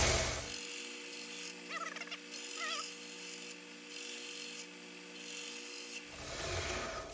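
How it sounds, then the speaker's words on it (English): Steady rasping of filing and sanding on a small engine water reservoir part for a hit-and-miss engine model, continuous scraping strokes close to the listener, with no talking. "then you can just sand and file these"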